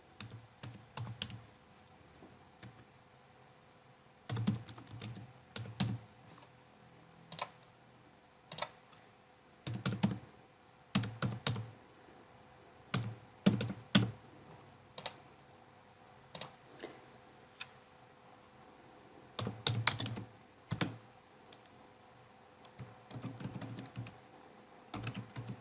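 Typing on a computer keyboard comes in irregular bursts of clicky keystrokes with short pauses between, fairly close and alone without talk.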